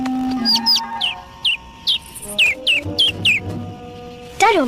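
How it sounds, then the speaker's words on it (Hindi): A small bird chirps in a quick series of short, rising-falling tweets, fairly close and clear, with a steady background hum and a brief higher call at the end. "ओह, एक नन्हा सा पंछी।"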